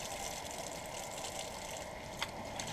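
Water runs in a low steady wash while a survival knife is rinsed outdoors in the cold, a faint continuous hiss with a small clink near the end.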